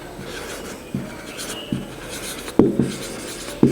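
A pen scratches across paper in short strokes with small taps and pauses between them, close and fairly clear, with no talking.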